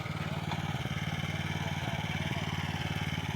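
A small motoblock cultivator engine runs steadily while loosening garden soil. It makes a close, even, throbbing putter that holds at one speed throughout.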